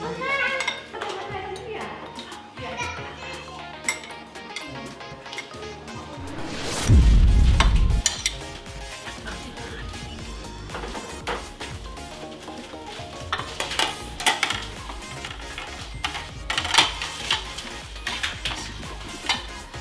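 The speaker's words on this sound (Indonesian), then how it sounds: "Aduk dulu." Food frying in a pan is stirred with a utensil, giving a continuous crackling sizzle with frequent scrapes and metallic clinks, plus one heavy thump partway through, while people chat nearby.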